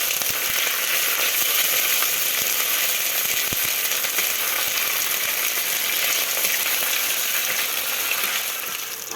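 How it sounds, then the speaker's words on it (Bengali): Ginger paste and spices frying in oil for sago khichdi, a loud, dense and continuous sizzle close up with a few faint clicks of a utensil, with no voices. "আদা আর সব রকম মশলা কষানো হয়ে গেছে"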